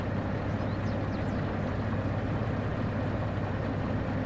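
The DE2 diesel locomotive in the Derail Valley train simulator gives off a steady low engine drone as it begins to move off, even and unbroken, with no talking.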